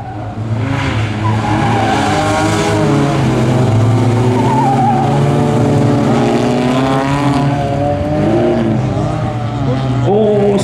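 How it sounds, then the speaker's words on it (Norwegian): Rallycross cars race side by side around a curve at a Norwegian bilcross event, with loud engines revving continuously and tires squealing as they slide through the turn, while an announcer speaks over the noise. "og så gir du på igjen rundt svingen og har en foreløpig ledelse foran Sondre Børretsen."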